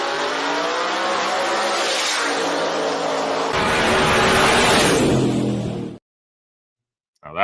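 Race cars roar flat out in a drag-style final, engines revving hard and loud with some tire squeal before cutting off abruptly, followed by a brief burst of noise after a short silence.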